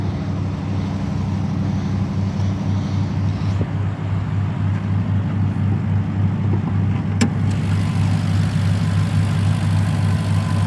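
A supercharged 6.2-liter Hemi V8 in a 2022 Ram 1500 TRX idles close by, a steady deep rumble with a smooth even pulse throughout, no one speaking.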